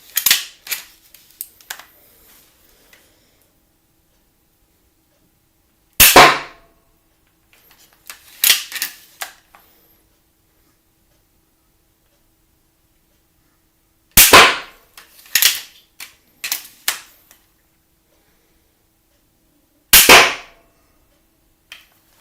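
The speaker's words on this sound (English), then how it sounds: "you have 3 shots with the Adarini now, and we're just going to feel through the shot" Adarini crossbow fired at a target, heard as a handful of sharp, loud snapping releases spaced several seconds apart, each followed by shorter clicks and clatter in otherwise quiet surroundings.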